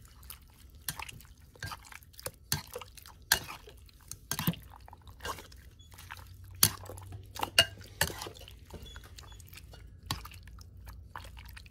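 A cornstarch mixture is stirred by hand, producing irregular close clinks and taps of a utensil against a bowl, with soft wet scraping in between.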